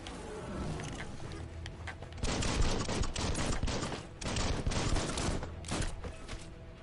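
Rapid bursts of gunfire in the video game Biomutant crackle in dense volleys, growing louder midway with sustained strings of shots, no talk over them.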